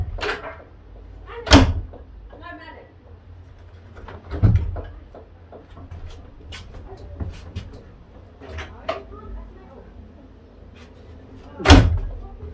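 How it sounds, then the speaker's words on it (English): The door of a self-build Iveco Daily 6.5 tonne campervan conversion is swung shut three times, each a loud, close, heavy thud, with faint knocks and quiet muffled voices in between. "we want to shut the bloody door, not stop it"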